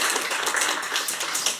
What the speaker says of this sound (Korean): 박수 한번 쳐드리시죠